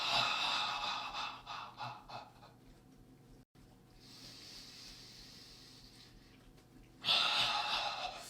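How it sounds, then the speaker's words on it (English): Slow, deep breaths during a standing Tai Chi and Qigong meditation, close and fairly quiet, with a long airy inhale and exhale and a pause between them. "You want to take deep breaths."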